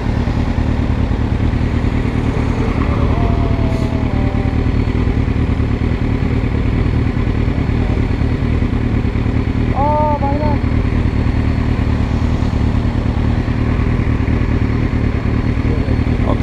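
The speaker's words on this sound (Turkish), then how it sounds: "Motoru bayağı ısıttık arkadaşlar." A motorcycle engine runs steadily in a Republic Day convoy, a loud, constant, close rumble that fills the whole stretch, with a few faint voices and whistles mixed in.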